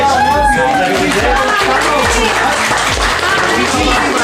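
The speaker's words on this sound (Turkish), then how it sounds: "Alkış, alkış." Wedding guests applaud in a dense, steady wash of clapping mixed with loud crowd chatter and voices, close and continuous throughout.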